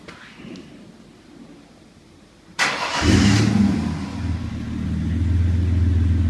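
A 2003 Mazda B3000 pickup with stock cats and a Flowmaster dual exhaust with 3.5-inch tips cranks and fires up, then settles into a loud, deep, steady idle rumble close by. There is quiet background before the start.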